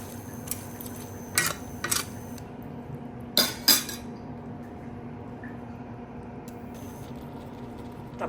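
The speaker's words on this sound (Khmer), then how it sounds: "បន្ទាប់ពីដាក់ចូលហើយយើងធ្វើការកូរវាឲ្យសព្វ" Pork and pork skin stirred in a cooking pot: a handful of sharp utensil clinks and scrapes against the pot over a low steady background, close and fairly quiet, with no talking.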